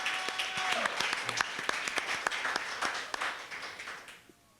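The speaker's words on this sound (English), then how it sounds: "I feel like she deserves an applause for that" Audience applause at a live reading at The Writer's Center, a fairly dense spread of claps that runs steadily and then thins out and fades near the end.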